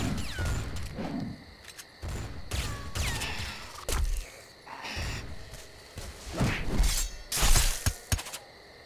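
Enemy gunfire in the Bloodrayne 2 video game comes in loud, irregular bursts with crunching, shattering impacts and jittery clatter, closely spaced across the whole stretch.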